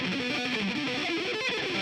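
An electric guitar played through heavy distortion gives off a thick, buzzing, unbroken wall of sound at steady volume for the whole stretch, with no talking over it.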